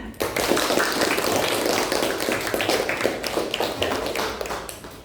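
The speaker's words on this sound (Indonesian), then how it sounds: "Sekali lagi tepuk tangan." A classroom of students clapping together during a lesson, steady dense clapping that starts abruptly and holds for several seconds before thinning out at the end.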